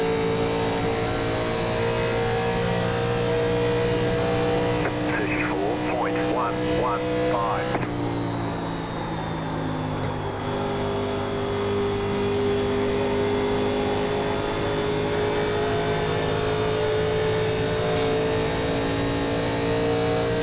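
A pack of roughly five 1987 NASCAR Legends stock cars in iRacing at Las Vegas Motor Speedway, engines droning at a steady high pitch with a brief shift in tone midway, a constant loud hum throughout.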